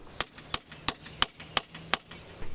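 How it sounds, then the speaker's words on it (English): Hammer blows on a steel chisel cutting into fieldstone rock of a farmhouse foundation: six sharp, bright metallic strikes in steady rhythm, close and clear, with no talking. "I basically needed to start chiseling out some of the rock"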